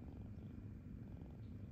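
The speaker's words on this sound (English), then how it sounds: "did I hear purr?" A cat purrs steadily and softly at close range, a continuous low rumble that runs without a break, with no voices over it.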